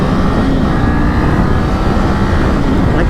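A Kawasaki Ninja 500 motorcycle accelerates on a freeway. A loud, steady engine drone and rushing wind noise run throughout, close to the rider and uninterrupted by talk.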